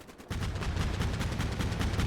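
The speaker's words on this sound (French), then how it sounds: "t'es tombé sur mon canon de 30 qui est juste là, caché" Rapid bursts from a concealed 30mm cannon in the Combat Mission Black Sea war game, a loud sustained volley of heavy automatic fire starting abruptly after a brief quiet moment and continuing with a steady pounding rhythm.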